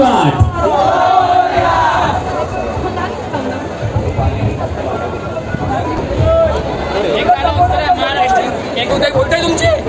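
Crowd at a Dadar Dahi Handi festival on Chhabildas Road, a loud roaring mass of cheering, shouting and chatter with a voice calling out over the noise, continuous and dense throughout.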